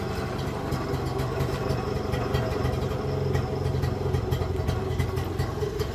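A small carbureted engine with a gravity-feed tank idles steadily nearby, a constant low rumble with a fast, even pulse and no change in pace.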